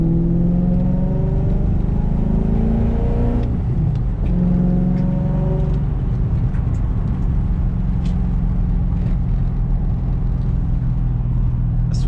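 Loud car engine revving and accelerating on the road with rising harmonic whine, a brief shift-like dip around the middle, then a steady, strong drone continuing close by throughout.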